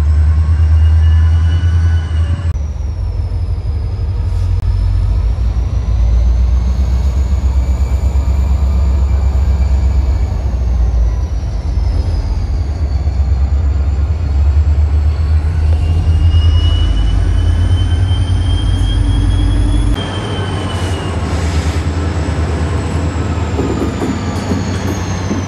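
A Florida East Coast Railway freight train hauling empty rock cars rolls steadily past nearby on the Medley lead in 2022. Its heavy low rumble stays constant, with drawn-out wheel squeals whining above it and a brief shift in tone partway through. No one speaks.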